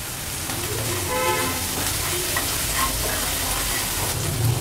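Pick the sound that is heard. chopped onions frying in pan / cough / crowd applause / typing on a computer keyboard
chopped onions frying in pan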